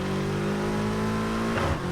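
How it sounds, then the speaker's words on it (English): A car engine in Need for Speed Heat, a Nissan Skyline, revs and hums loudly and continuously, its pitch shifting near the end, with no voices. "that engine sounds beautiful"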